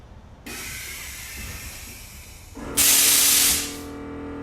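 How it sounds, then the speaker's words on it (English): Air ride suspension on a 1950 GMC pickup truck with a 1UZ V8 inflates to raise it back to ride height: a steady close hiss of air, then a louder sharp blast of air that fades, with no voices. "I'll hit the button to bring it back up to ride height."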